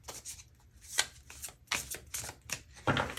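Tarot cards are shuffled by hand in several quick riffling bursts with short pauses between them. The cards are close and crisp, with no talking.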